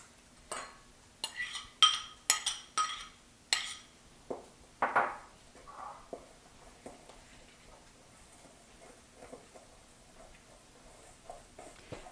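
Ingredients for a pie crust dough for a caramelized onion, beet and feta tart are stirred in a bowl, giving a string of crisp clinks and scrapes in the first few seconds, then quieter intermittent taps.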